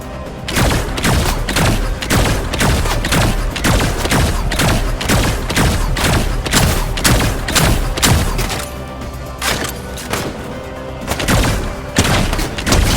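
Fortnite gameplay: rapid bursts of gunfire mixed with heavy booming thuds as generators are blasted, a dense, loud barrage that continues with only brief pauses.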